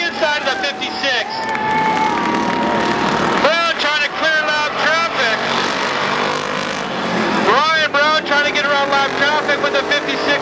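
Street stock race cars roar around Barona Speedway in a continuous loud drone, with several rising and falling pass-by sweeps as cars fight through lap traffic, while an announcer talks over the action.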